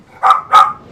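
A puppy gives two quick, loud, high yips close by, evenly spaced barks with a short gap between them and nothing else around.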